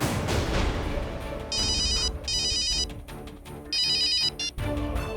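An electronic phone ringtone sounds in three bursts of repeating tones over a background of music and ambient noise.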